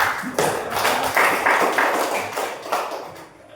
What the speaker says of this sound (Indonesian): Oke, tepuk tangan dulu untuk Robi